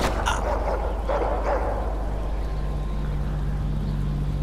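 Dog barking in The Walking Dead: The Final Season video game, a few sharp barks and yelps early on over a steady low rumble, then fading into background drone.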